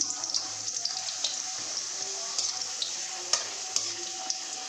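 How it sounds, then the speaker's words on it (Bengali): Papad frying in hot oil for a khichuri meal, a steady faint sizzle with a few small crackles and clicks, close and without talk. "এবার আমি ভাজাগুলো করে নিই প্রথমে একটু পাঁপড় ভেজে নিই"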